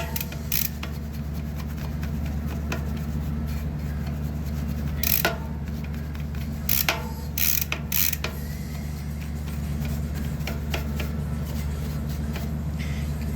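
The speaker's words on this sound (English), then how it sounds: "We can see on this rear sprocket. Do a light wipe down on this with this brush." A brush scrubs cleaning foam on the rear sprocket of a time trial triathlon bike, making a close, continuous gritty rubbing under a low hum, with a few sharper scraping strokes.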